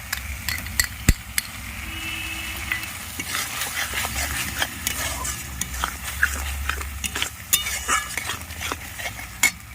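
Mustard and chili paste with turmeric and chili powder is stirred and fried in a pan, a low sizzle under frequent sharp metal clinks and scrapes of a spoon.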